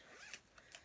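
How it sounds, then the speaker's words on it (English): A zipper closes a small bag pouch in one quick, quiet pull lasting under a second, with no talking. "zip that up."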